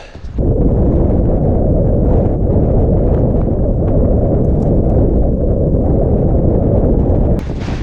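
Strong wind of about 40 miles an hour on a frozen lake in 18-degree cold buffets the microphone, a loud, continuous low roar that ends abruptly near the finish.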